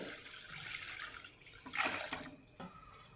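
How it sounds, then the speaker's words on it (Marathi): Water splashes briefly into a metal wok, a short pour that swells and fades, followed by a small slosh. "कढईमध्ये पाणी टाकून घ्यायचं"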